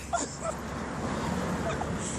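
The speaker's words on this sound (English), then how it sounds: "Dog." Faint dog whimpers and a few thin yips come through a steady wash of outdoor background noise, brief and somewhat distant.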